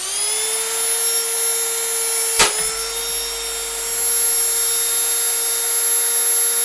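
A handheld rotary tool with a sanding drum spins at high speed, giving a steady, loud, close whine that holds on and on. A brief sharp click or knock comes partway through.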